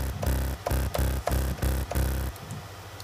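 Two layered oscillators in the Massive synthesizer produce a gritty, distorted bass that pulses in a steady run of about six repeated growling notes before fading out. The bass is loud and dry, and no one speaks.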